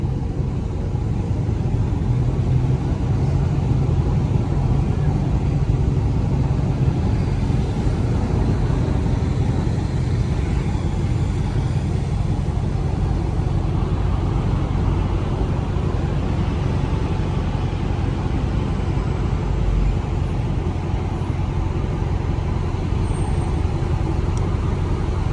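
A Chrysler 300C with a turbo drives through a tunnel, and its engine makes a loud, steady, booming drone that echoes off the walls and holds at an even level throughout, with no voices.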